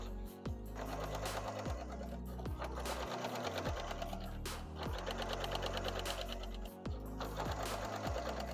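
A sewing machine stitches a handmade bicycle bag with velcro strips, running in close, loud bursts of rapid needle clatter broken by brief pauses and restarts.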